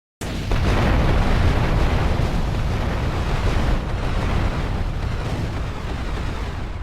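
Bombs dropped from a helicopter explode in a Grand Theft Auto: Vice City mission, starting as a sudden loud blast and rolling into a long, dense, rumbling roar that continues steadily throughout.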